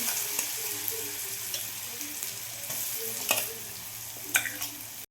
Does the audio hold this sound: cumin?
yes